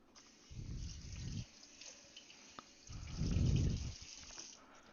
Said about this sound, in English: just quickly give it a quick rinse off